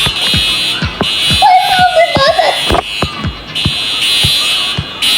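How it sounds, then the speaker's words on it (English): A school fire alarm rings in pulsing, shrill bursts that stop and start, while children's voices and chatter carry on underneath. "Why did I hear an alarm?"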